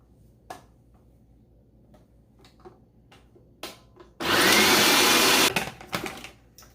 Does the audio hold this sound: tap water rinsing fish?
no